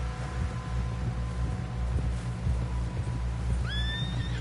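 A horse in the Red Dead Redemption 2 game gives a sharp whinny near the end, over a low rumbling background with faint hoof clatter, with no voices.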